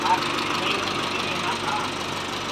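A small Isuzu 4HL1 diesel engine idles in a mini dump truck, a steady continuous close-up rumble with a faint knocking rhythm and no pauses.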